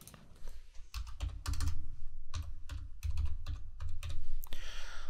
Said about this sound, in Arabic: فخلينا اكتب رقمي